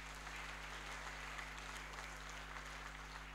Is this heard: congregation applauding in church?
yes